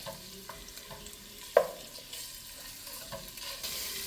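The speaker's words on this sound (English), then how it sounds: "So now the meat is getting to brown up a little." Ground meat browns in a frying pan for a Roma tomato sauce, a faint, quiet sizzle broken by soft stirring scrapes and one sharper clack of the utensil.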